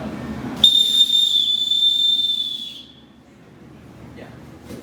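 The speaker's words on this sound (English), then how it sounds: "show me what that whistle can do" A small whistle made in a precision manufacturing shop gives one sustained, shrill, slightly wavering blast of about two and a half seconds, then fades off, leaving quiet room noise.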